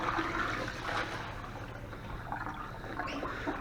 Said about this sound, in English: then I'll rinse it out the mop again and wring it out really well